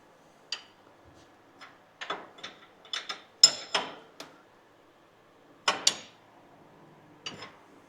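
Ratchet tightening a pipe clamp on a Toyota Hilux steering rack, heard as short bursts of quick metallic clicks spaced irregularly, fairly close and alone.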